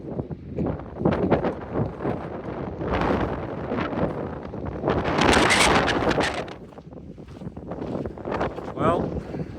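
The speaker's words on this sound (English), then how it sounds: "It's extremely windy." Strong gusting wind buffets the microphone high on Mount Hood, with roaring bursts and rustling swells throughout, while a person talks intermittently over the blustery noise.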